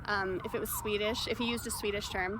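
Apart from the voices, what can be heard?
sirens outside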